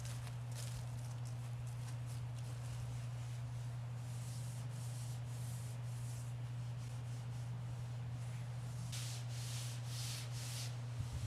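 Rhythmic rasping strokes of sanding a 2000 Ford F-150 under restoration, repeated back and forth over a steady low electrical hum.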